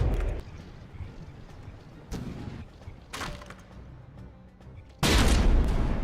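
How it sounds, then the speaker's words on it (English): Frag shells from frigate guns fire and ricochet in the naval battle game From The Depths, a series of sharp booming bursts with crackling tails, the last one loudest and sustained. "Frag shells ricocheting."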